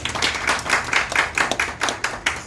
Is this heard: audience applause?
yes